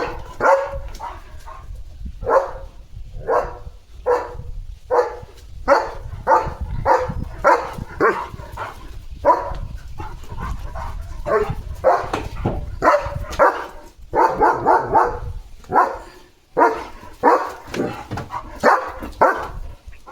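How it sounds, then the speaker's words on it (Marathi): Leo the dog barks repeatedly at a herd of sheep, a long series of close, loud barks in a fairly regular rhythm with a few yips mixed in. "मेंढ्यांचा कळप आलाय लिओला, म्हणून लिओ एकदम तयार झालाय भुंकायला"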